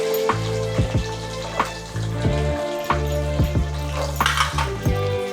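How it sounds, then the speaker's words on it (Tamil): Cumin and fenugreek seeds fry lightly in oil for a fish curry, a steady close sizzle with several sharp clinks of a utensil against the pan. "வெந்தயம் கரைஞ்ச டேஸ்ட் நல்லா இருக்காது, ஸோ லைட்டாக பொரியட்டும்."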